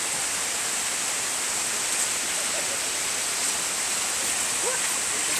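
A waterfall and flowing water in Michoacán make a steady, dense, even rush. The broad roar holds constant throughout with no breaks and no speech over it.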